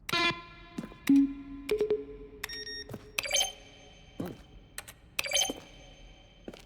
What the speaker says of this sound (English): Each sound is a mix keyboard stroke into synthesizer.